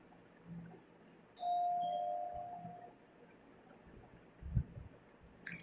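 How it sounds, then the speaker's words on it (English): A single bell rings outside, a clear sustained tone that slowly fades over a second or so, followed by a soft low thump, in an otherwise quiet room. "The bell rang outside at this point."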